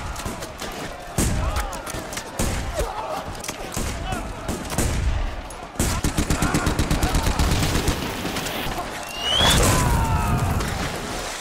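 Dense battle gunfire from a German assault on Canadian lines: rapid machine-gun bursts and scattered rifle shots crackle without pause, with heavy thuds and booms underneath and a rising whistle near the end, all loud and continuous.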